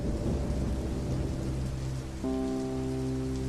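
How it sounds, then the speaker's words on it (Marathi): A sudden downpour with rolling thunder fills the scene as a storm effect, loud, dense rain hiss over a low rumble, followed by a lingering low tonal hum in the last second. "अचानक पाऊस पडू लागला"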